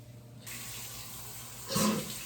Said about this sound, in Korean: 여기 물 한번 씻어